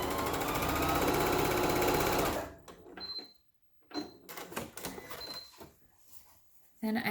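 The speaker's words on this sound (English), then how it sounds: "So again, I'm just sewing a 1/4 inch seam allowance." A home sewing machine runs steadily for about two seconds, stitching a quarter-inch seam on a patchwork pot holder; fabric handling and short clicks follow.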